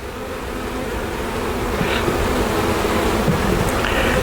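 Honeybees humming around an open hive, a close, steady drone with a few individual bees buzzing louder as they pass near, continuous throughout with no talk.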